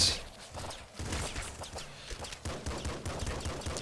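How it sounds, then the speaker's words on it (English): Rapid gunfire from a shotgun and other weapons in the top-down shooter game Nuclear Throne, a dense, continuous barrage of sharp synthetic blasts with no talk over it. "Shotgun's good."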